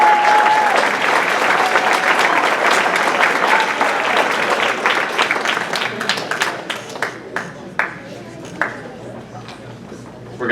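An audience at a spring school band banquet gives a dense round of applause for the juniors that thins out into scattered individual claps before fading away.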